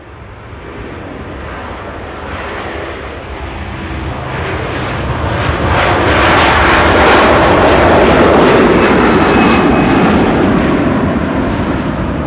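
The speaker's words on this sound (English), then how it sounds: "A330 departure." An Airbus A330 jet departing Manchester Airport, its loud engine roar swelling steadily over several seconds to a broad peak and then easing slightly as it climbs away, with no voices.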